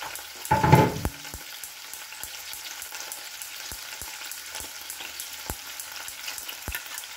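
Garlic drops into a hot pan with a brief loud burst of sizzle, which settles into a quiet steady frying hiss punctuated by sharp clicks of a utensil against the pan, close and with no voices.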